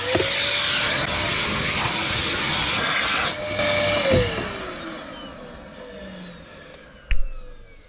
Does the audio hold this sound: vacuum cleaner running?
yes